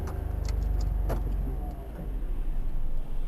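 Car engine idling and revving during a driving lesson, a steady low rumble throughout with a few faint clicks near the start.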